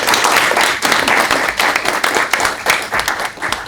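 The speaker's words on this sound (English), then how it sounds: "please join me in a round of applause to him" Audience applause at a talk on climate careers, fairly close, crisp clapping with some individual claps standing out, dipping briefly before continuing.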